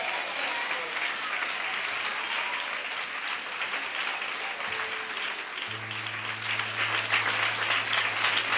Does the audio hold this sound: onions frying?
no